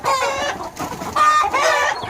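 Layer hens clucking and squawking in agitated bursts as they fight a chicken of a different breed, a loud, continuous flurry of overlapping fowl calls close by, with no talk.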